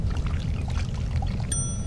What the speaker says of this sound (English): let me just pour the water